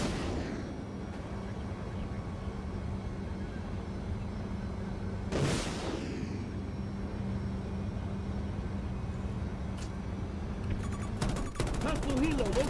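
Gunfire rattles in Battlefield 2042, with a low, steady battlefield rumble beneath scattered distant shots, one sharp nearby blast around the middle and a burst of rapid fire near the end, along with brief voices.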